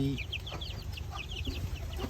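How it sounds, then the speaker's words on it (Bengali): Native desi chickens cluck softly in short scattered calls over a low, steady background hum. "আমি কিছু দেশি মুরগি পালা শুরু করছি এই যে"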